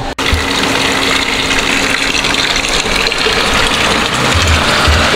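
Water gushes steadily and loudly from the deep Edo-period well at the Jinja shrine beside Matsumoto Castle in Japan, a continuous close rushing flow with no pauses.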